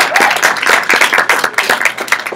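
A church crowd applauds two newly ordained ministers at an ordination service: dense, steady clapping from many hands, loud and close, continuing throughout.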